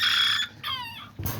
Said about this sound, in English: that's the little chicken I have him with right there